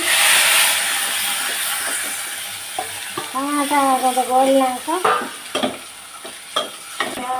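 Tomato sizzles and fries in a tempering with turmeric in a hot pan, an initial steamy hiss followed by clattering stirring and crackling bursts, close and unaccompanied by speech.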